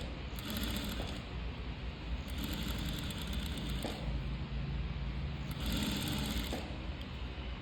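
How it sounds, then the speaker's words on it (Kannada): A sewing machine stitches a small folded hem on fabric, running in three bursts of rapid, whirring stitching with short pauses between them, close and clear with no voices. "ಚಿಕ್ಕದಾಗಿ ಫೋಲ್ಡಿಂಗ್ ಮಾಡಿಕೊಂಡು ಸ್ಟಿಚ್ ಹಾಕೊಂಬಿಟ್ಟೆ"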